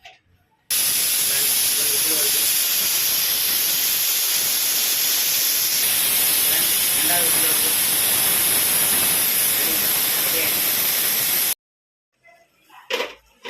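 A loud, steady hiss of escaping steam from a pressure cooker cooking lentil and vegetable kootu runs for about eleven seconds before cutting off abruptly, followed by faint clatter.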